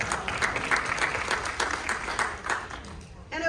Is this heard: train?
no